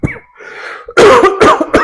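A man coughs several times in quick, loud, harsh bursts close to the microphone, following a brief throat clearing and a soft breathy pause.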